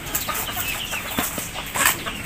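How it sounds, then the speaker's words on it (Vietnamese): Chickens on a poultry farm cluck and chatter at feeding time, a busy cluster of short calls close by, with some rustling and no talking. "Bây giờ mình đi cho gà ăn cả nhà."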